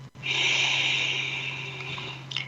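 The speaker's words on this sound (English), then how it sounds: "Take a deep breath in through your nose." A slow, deep breath drawn in through the nose and let out through the mouth, one long steady airy inhale-exhale heard close and alone.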